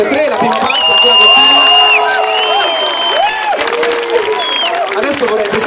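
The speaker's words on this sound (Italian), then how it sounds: "Un applauso a tutte e tre, la prima parte." Crowd at an idol group's concert at Napoli Comicon cheers, whoops and applauds loudly, with high shouted voices and whistling sustained cheers over continuous clapping.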